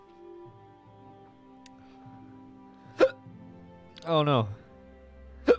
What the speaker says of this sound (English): Why do I have the hiccups?